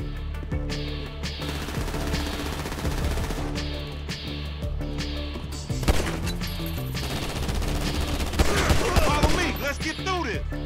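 Rapid bursts of gunfire in the video game GTA 5 crackle almost continuously, loud and dense, with a steady background rumble and occasional heavier shots.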